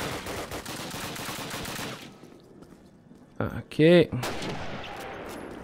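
Gunfire in the Call of Duty 1 video game: a rapid run of loud shots, then a near-silent pause broken by a few sharp blasts, with someone speaking briefly in between.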